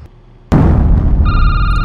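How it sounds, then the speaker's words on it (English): A sudden loud burst opens the scene, then a telephone rings in the Security Booth horror video game, a bright electronic ring close and loud over a rumbling wash. "There we go again, the explosion and also the phone call."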